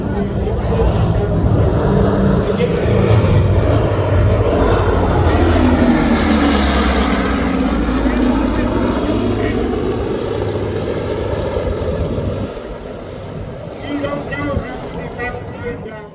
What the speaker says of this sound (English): Coming in low, we'll see our first of the two B-29s.